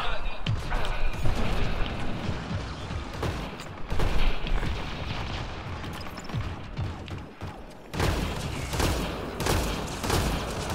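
Bursts of gunfire in Mass Effect Andromeda multiplayer crackle in rapid, loud volleys with crashes and booms, running throughout with brief lulls.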